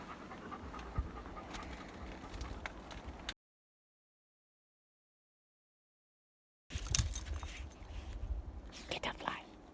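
A dog pants in quick, close breaths at a remote Arizona mountain campsite, broken by a stretch of complete silence before the rapid panting resumes.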